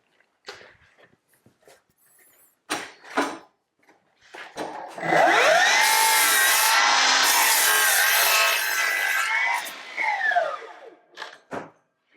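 A Milwaukee M18 Fuel 305mm cordless mitre saw cuts through a piece of timber in one long, loud pass of about five seconds, whining up with a soft start and falling away as the blade brakes, with knocks and handling noises before and after.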